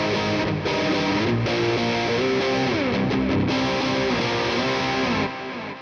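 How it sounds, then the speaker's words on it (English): Stratocaster with a hot bridge pickup pushed into a heavier, driven tone, playing a dense, continuous run of sliding notes and chords at steady loudness with no talking. "But if I go to like a heavier sound"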